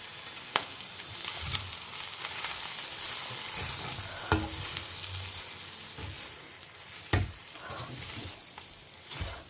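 Vegetables and spices sauté in a pan with a steady moderate sizzle, punctuated by sharp scrapes and knocks of a stirring spoon at irregular intervals.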